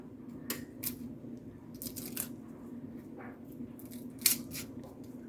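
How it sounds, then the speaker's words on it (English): A kitchen knife makes a shallow cut into onion skin, giving a few faint crisp snips and crunches against a steady low hum, close by with no talk. "the easy way to get your top skin off without breaking the onion is just to do a shallow little cut"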